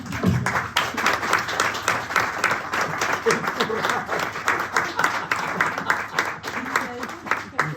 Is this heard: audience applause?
yes